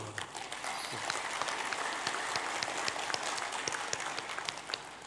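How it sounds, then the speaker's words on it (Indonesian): Steady applause from a graduation ceremony audience in a hall, dense even clapping that carries on without a break, moderately loud and with no voices over it. "Aplaus satu."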